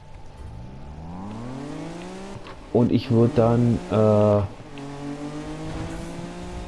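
A 1971 Nissan Fairlady 240ZG engine in Need for Speed (2015) on PS4 rises and falls in pitch as the car accelerates, then gives several loud, choppy revving bursts before settling into a steady drone, with someone talking over it.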